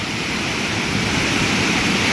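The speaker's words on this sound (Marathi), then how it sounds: "पाणी बघा कशा पद्धतीमध्ये धरण भरून वाहत आहे" A dam in Ratnagiri, Konkan, overflows in heavy monsoon rain, its water a loud, unbroken roar close by with no pauses.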